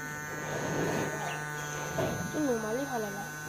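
A homemade smoke machine runs with a steady electric hum and buzz, holding a constant drone under background chatter, with a few whistle-like wavering tones near the end.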